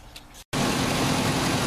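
A Ford F-150 with a bad thermostat idles to warm up, giving a steady, loud, close engine drone after a brief gap.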